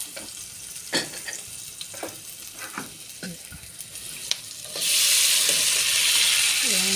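Cooked rice dropped into a hot pan for stir-frying bursts into a loud, steady sizzle after a few scattered utensil clinks and light scraping sounds.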